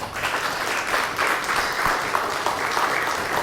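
Audience applause at a silver jubilee award show in Chitral, a dense sustained round of clapping from a large crowd that swells and holds for a few seconds.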